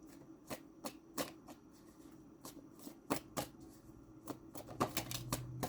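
Tarot cards being shuffled by hand: a quick run of crisp, papery riffles and slaps, close and fairly quiet, with no talking.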